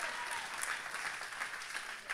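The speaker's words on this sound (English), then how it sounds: "Come on, somebody clap on that word." A church congregation claps together during a sermon, a steady wash of applause from many hands at moderate volume, continuous throughout without speech over it.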